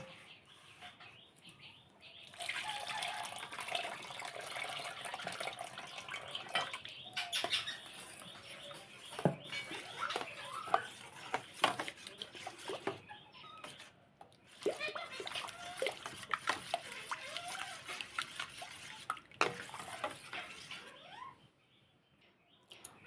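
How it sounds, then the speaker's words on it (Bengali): Water being poured and splashing into a wood apple and sago mixture, with repeated wet splatters and sloshing over about twenty seconds, while birds chirp faintly in the background. "এবার পরিমাণ মতো জল দিয়ে দিতে হবে।"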